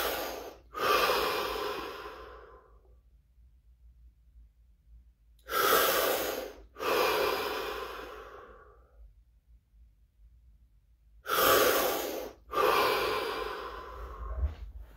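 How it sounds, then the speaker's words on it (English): Three deep breaths, each a long audible inhale followed by a slow exhale, evenly spaced and close to the microphone with near silence between them. "Three deep breaths."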